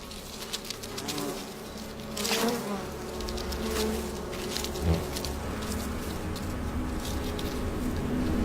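A honeybee colony under hornet attack in Korea hums with a thick, continuous buzz of many insects, close and steady with small swells and faint scuffing throughout.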